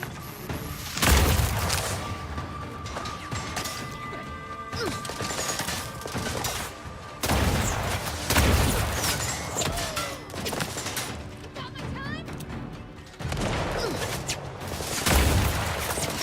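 Grenade launcher fire and blasts in The Outer Worlds 2: three heavy booming impacts spaced several seconds apart, with a continuous rumble of combat noise between them.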